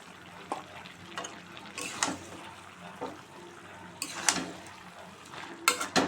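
A ladle stirs curry seasoned with ground roasted cumin and coriander in a pan, producing soft intermittent scrapes and metallic clinks over a faint sizzling bed, close by, with a few sharper knocks near the end.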